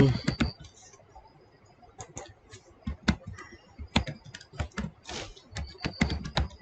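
Close, uneven keystroke clicks on a computer keyboard as a name is typed into a PHP web form, bursts of taps with short pauses, heard alone without speech.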